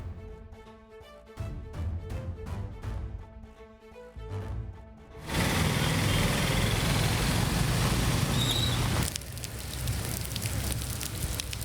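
Heavy rain pours down in Ranipet and surrounding areas, a loud, dense, steady hiss that cuts in midway after a stretch of music and carries on to the end.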